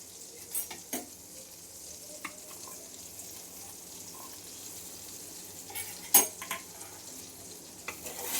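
Spices seasoned with salt and turmeric fry in a pan, giving a steady, quiet sizzle broken by a few sharp spoon scrapes and clinks against the metal, with no talking.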